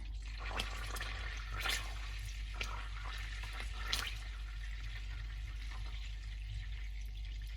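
Butter simmers steadily as its water cooks off, with a soft continuous sizzle and scattered light pops and crackles, close by, under a low constant hum.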